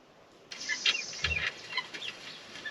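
Guinea fowl flap their wings and give a few sharp, clucking calls at close range, a brief flurry of wing beats and squawks over quiet farmyard air.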